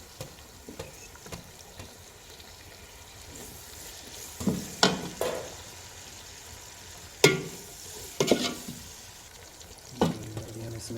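Tomatoes go into spices frying in a pan while Namkeen Chamiya vermicelli is being cooked, giving a steady sizzle with several sharp stirring and scraping bursts, close and moderately loud, with no talking.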